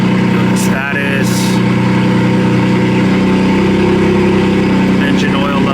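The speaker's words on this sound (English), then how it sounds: "start the car up" A BMW M4 engine idles at a steady, loud rumble just after startup, with a brief clatter of a handling noise partway through.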